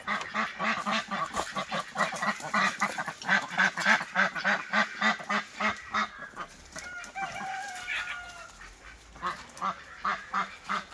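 Duck flock calling in a backyard poultry setup, repeated nasal honking quacks in a steady rhythm, loud and close, several birds overlapping throughout, a few higher calls mixed in near the end.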